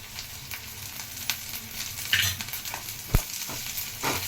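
Onions with green chillies and ginger-garlic paste fry in a pan for mutton pulusu, giving a steady low sizzle with scattered stirring scrapes and one sharp knock of a spoon on the pan near the end.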